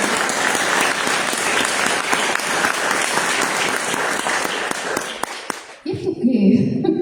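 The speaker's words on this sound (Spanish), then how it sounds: "Denle un aplauso al Señor." A church congregation applauds loudly and steadily for about six seconds during a worship service, then the clapping cuts off and a voice begins speaking.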